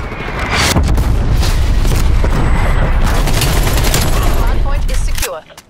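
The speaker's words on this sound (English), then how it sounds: "Artillery inbound." Artillery strike explosions in Call of Duty Black Ops Cold War multiplayer roar as a dense, continuous barrage of booms and crackling blasts for about five seconds, loud and close, then cut off abruptly.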